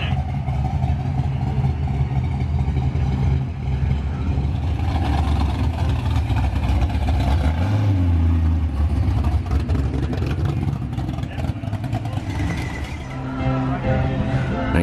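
A Ford Mustang engine rumbles and revs at a classic hot rod car show, a loud continuous growl with rising surges amid crowd noise and voices.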